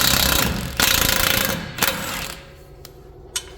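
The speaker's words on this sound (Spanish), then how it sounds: "Voy a empezar aflojando la tuerca de la rótula." A power tool rattles loudly as it loosens a car ball joint nut, hammering steadily for about two seconds, then short bursts and a few sharp metallic knocks.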